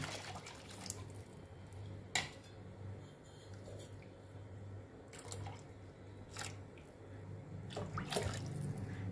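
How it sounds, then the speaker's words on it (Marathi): Water poured into a simmering misal mixture in a pot, a soft sloshing pour over a low background hum, with a few sharp clinks of utensils. "आता ह्याच्यामध्ये आपण आता पाणी घालून देऊ"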